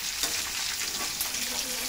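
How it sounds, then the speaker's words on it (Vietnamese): Fish frying in a pan, a close, steady sizzle and crackle with scattered pops and stirring sounds, continuous throughout. "Thì để chiên chút nữa đi."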